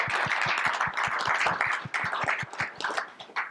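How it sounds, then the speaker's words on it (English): Panel audience at an AR/VR/MR education event clapping steadily in a sustained round of applause, individual claps distinct and fairly close, no talking over it. "Round of applause again."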